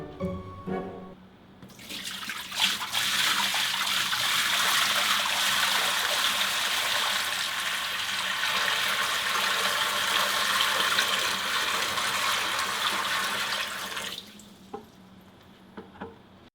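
Steady rushing and splashing of water pouring into a glass vivarium tank, starting abruptly and running for about twelve seconds before cutting off.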